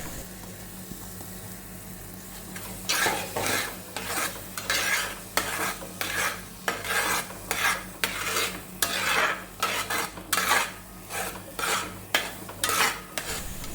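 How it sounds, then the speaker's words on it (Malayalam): Ripe jackfruit is mixed with grated coconut in a bowl, a string of soft, scraping stirring strokes that starts after a quiet moment and repeats in an uneven rhythm, close and fairly quiet. "ഇനി നമുക്കൊന്ന് നന്നായിട്ട് യോജിപ്പിച്ചെടുക്കാം."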